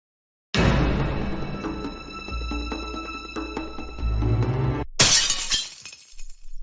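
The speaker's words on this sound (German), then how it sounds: "Ich habe die Vase zerbrochen." A vase breaks indoors with a sharp, loud crash; shards ring and scatter for several seconds, followed by a second burst of bright breaking glass near the end.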